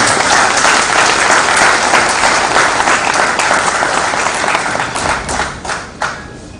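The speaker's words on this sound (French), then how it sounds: "Nous devons l'applaudir." Audience applause at a French-language gathering, loud sustained clapping from many hands that thins into scattered claps toward the end.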